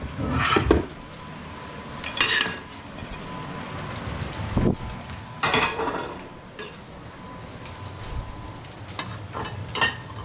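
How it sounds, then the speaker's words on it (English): Dishes being put away in a home kitchen while steak nachos are made: a few separate clinks and clatters of plates and cutlery over a steady background hiss. "I can put these dishes away."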